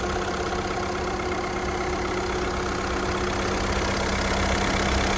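A remapped Audi A1 1.6 TDI diesel engine runs at a steady idle, a continuous close-up drone with a low hum and no clear revs or speech.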